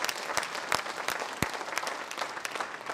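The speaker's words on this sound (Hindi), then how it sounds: "एक बार ताली बजाते हैं, दोनों हाथ ऊंचा करके बजाते हैं" An audience at a public gathering bursts into sustained applause, many hands clapping with raised arms, dense and lively with sharper individual claps standing out.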